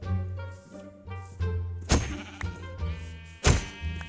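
Sheep in the video game Minecraft bleat several times in short, nasal calls, with a couple of sharp thumping hits between them, fairly close and clear with no talking over them.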